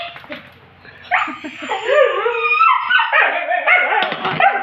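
Dogs bark and yip excitedly at close range, a rapid run of sharp, loud barks with whimpering whines mixed in and no talking.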